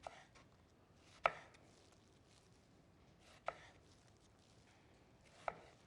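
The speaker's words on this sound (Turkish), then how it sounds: "Hemen şöyle piyaz şeklinde doğruyorum." Onions are sliced thin with a knife, leaving three faint, widely spaced chops on a board about two seconds apart over a quiet background, with no talking.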